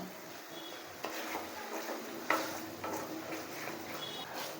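Bhetki fish and green chilies sauté in a pan with a quiet, steady sizzle and occasional utensil scrapes and taps against the metal, heard close with no speech.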